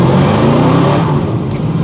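Car with a Ford 302 engine doing a burnout on pavement: a loud, sustained roar of engine and tire noise, close and constant for its whole brief length, with no talking.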